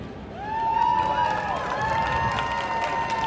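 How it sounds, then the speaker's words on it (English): Crowd noise from a street show audience near Covent Garden in London, a steady broad wash of clapping and murmuring that rises and holds for a few seconds, moderately loud. "The people are still clapping."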